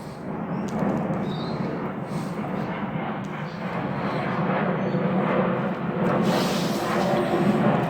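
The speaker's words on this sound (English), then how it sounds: "I do apologise for the airplanes going over" Airplane passing overhead on a landing flight path above a garden, a low broad rumble that rises and swells across the whole stretch, mixed with gusty wind.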